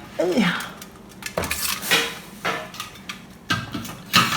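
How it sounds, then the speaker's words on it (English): Clattering knocks and clinks as something falls and rattles into a container, several uneven impacts close by, with a faint voice underneath. "something was dropped in my bin"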